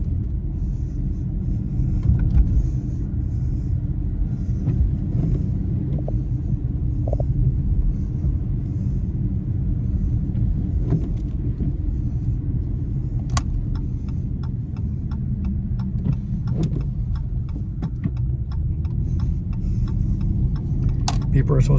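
A 2016 Dodge Charger V8 with a coolant boiling problem drives along the road, a steady low engine and road rumble with faint rattles and clicks throughout.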